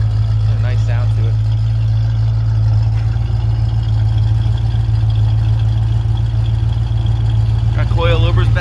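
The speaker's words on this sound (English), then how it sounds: "Turbo mufflers lead to dual exhaust. Got a nice sound to it." A 1933 Ford roadster's fuel-injected 5.7L engine idling through dual exhaust with turbo mufflers, a loud, steady low rumble close by, with someone talking over it.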